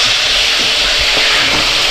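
Loud, steady sizzling and hissing of an egg frying in a hot pan, continuous with faint crackles.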